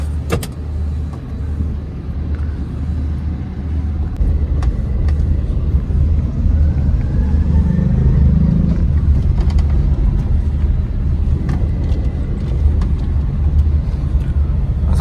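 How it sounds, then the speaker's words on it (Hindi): Car engine rumbling steadily at close range while being driven to park outside a hospital, a continuous low drone with a few faint clicks and rattles and no voices. "तो मैं गाड़ी पार्क करके बाहर, उसके बाद अंदर आता हूँ"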